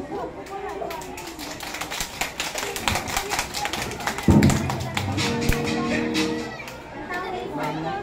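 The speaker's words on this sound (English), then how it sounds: "a round of applause." At a grade 3 class Christmas party, children and guests clap during the certificate awarding. The claps are quick and busy and mix with children's chatter, a few thumps and steady talk nearby.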